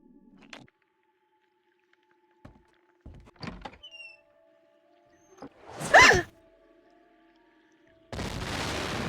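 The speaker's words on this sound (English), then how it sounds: "whoever threw that ice ball at me must have set off an explosion that shattered the ice" Ice shattering from an explosion in the video game Nancy Drew: The White Wolf of Icicle Creek: sparse knocks and clicks, then one loud, close burst of cracking, followed by a steady rushing crumble to the end. No voices.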